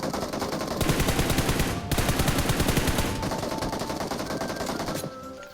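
Sustained automatic gunfire in the mobile game PUBG Mobile, on the Miramar map, loud and close with rapid evenly spaced shots in two long bursts and a brief break between them, then trailing off.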